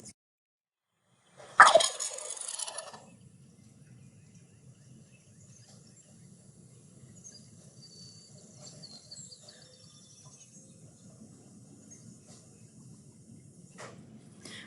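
A turkey gobble from a played bird vocalization recording, one loud rattling burst near the start followed by a faint steady insect-like background hum, with no talking.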